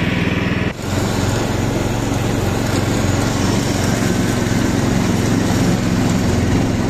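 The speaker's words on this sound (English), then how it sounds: "There you go, grass is now cutting," A ride-on mini tractor lawn mower drones continuously and loudly up close while cutting grass, its high engine note steady throughout apart from a brief dip near the start.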